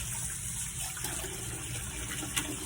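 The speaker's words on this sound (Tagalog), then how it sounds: "At pagkatapos niyan ay ating huhugasan ng tubig ng ayos." Tap water running steadily into a sink while a fish is rinsed, a continuous gushing wash with a faint clink near the end.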